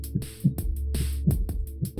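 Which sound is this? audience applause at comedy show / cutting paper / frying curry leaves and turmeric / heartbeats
heartbeats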